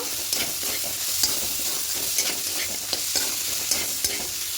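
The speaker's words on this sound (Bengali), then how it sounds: "ঠিক এই সময়তে সবজিগুলো সব দিয়ে দেব। দিয়ে মিশিয়ে নেব।" Chopped vegetables for a vegetarian moong dal are stirred and fried in a pan, giving a steady close sizzle broken by repeated scraping strokes of a spoon against the metal.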